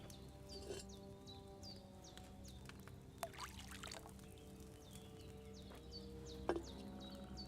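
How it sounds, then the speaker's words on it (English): Wine is poured into a cauldron in the medieval video game Kingdom Come Deliverance 2, a soft, quiet liquid sound set against outdoor ambience with faint bird chirps. "So, what did you pour in there? Wine, of course."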